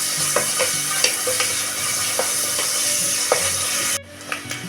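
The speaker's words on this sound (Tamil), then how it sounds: "ஒரு பெரிய வெங்காயத்தை பொடியாக கட் பண்ணி போட்டுக்கலாம். கூடவே 7-8 பல்லு பூண்டு போட்டுக்கணும். இதை நம்ம நல்லா வதக்கிக்கலாம்." Chopped onion and seven or eight garlic cloves sauté in hot oil, a steady close sizzle broken by repeated spoon stirs and scrapes, with the frying briefly cut off near the end before the stirring resumes.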